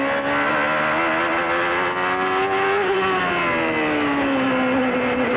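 Onboard sound of a 1993 CART IndyCar race car on a wet Portland road course in the rain, its engine droning steadily and loudly, pitch rising and dipping gently with smooth throttle, no voices.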